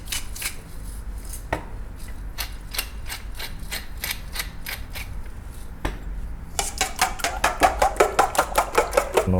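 Eggs being whisked with salt and pepper in a bowl for XO sauce shrimp and eggs, a run of quick, sharp clicking beats that speeds up and grows louder toward the end, heard alone.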